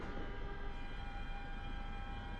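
Train rattling and shaking in Train Sim World 6, a steady low rumble with a constant tonal hum running throughout, continuous and fairly loud with no talk.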